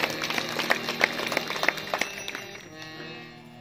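A kirtan audience in Mazgaon claps for the pakhawaj player, with scattered, fairly faint claps that thin out and fade after about two seconds.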